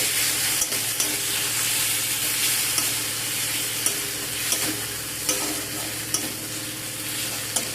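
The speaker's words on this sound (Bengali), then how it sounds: "মশলাটা দিয়ে মশলা আর পেঁয়াজ সব কিছুকে একসাথে ভালো করে ভাজা ভাজা করে নেব।" A ground spice paste and onions fry together in oil in a pan for a drumstick curry, giving a continuous sizzle with regular spatula scrapes and taps close by; no voices.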